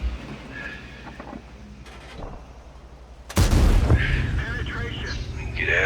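A tank cannon fires in a World of Tanks–style match from a T25 AT tank destroyer, a sudden loud booming blast followed by rumbling battle noise, with fainter distant thuds before it.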